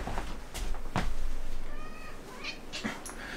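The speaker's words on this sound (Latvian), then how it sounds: "ka es varu parādīt kaķi" A house cat meows several times close by, with drawn-out, loud cries over a rough, noisy room background.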